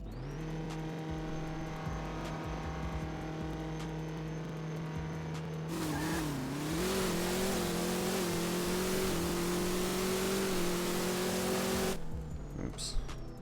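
Drag car engine in No Limit Drag Racing 2.0, revving steadily at the line, then launching at the green light with a rising roar and a gear change, under light talk.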